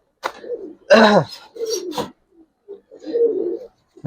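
Silver Giribaz pigeons coo in short, throaty bursts close by, several separate calls with quiet gaps between them.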